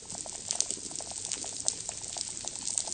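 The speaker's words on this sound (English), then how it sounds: "it's the sound of a healthy coral reef" A healthy coral reef heard underwater, a dense crackle of small snaps and pops like a frying pan, steady and moderately loud with no voices.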